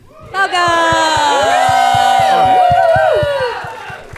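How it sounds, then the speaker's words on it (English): A crowd at a press dinner fundraiser for a presidential campaign cheers and whoops loudly, with sustained rising yells held for about three seconds before fading. "What are you cheering for?"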